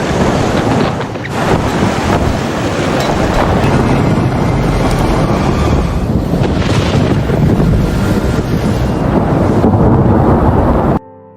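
Storm wind batters a sailing ship at sea, a loud, continuous roaring gust with heavy buffeting that surges and swells in waves before cutting off abruptly near the end.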